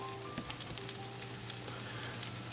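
Ham French toast roll ups fry in a pan with a steady, close sizzle and faint crackling pops, with no talk over it.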